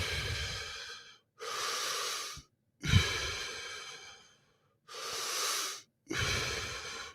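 Wim Hof method breathing: five long, deep breaths in and out, each a loud, close, airy rush of several seconds separated by brief silent pauses, with a small throat click partway through.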